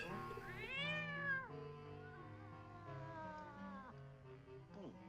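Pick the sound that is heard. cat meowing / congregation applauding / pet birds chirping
cat meowing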